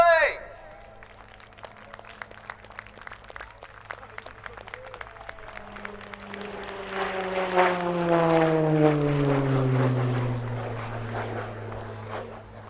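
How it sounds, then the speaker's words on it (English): A Royal Air Force Tucano propeller aircraft at an RAF Fairford airshow display rises from a distant drone to a loud, pitch-sliding roar as it passes, with crowd applause and an announcer's voice near the start. "May I present for the very final time at RAF Fairford, the 2019 Royal Air Force Tucano display!"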